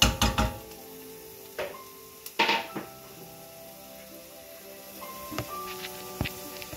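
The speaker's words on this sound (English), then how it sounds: "So we're just gonna saute this to become translucent, and we're gonna go ahead put our asparagus." Chopped onion and asparagus sauté in a hot pan with a soft, steady sizzle, broken by a few sharp clanks and scrapes of stirring and handling, while faint talk is heard at times.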